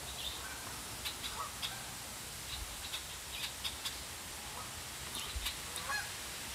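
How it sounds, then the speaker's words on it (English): Distant Canada geese honk outdoors on a cool fall day in Michigan, scattered faint calls repeating irregularly over a steady background hiss. "So Canadian geese are what we're hearing out there."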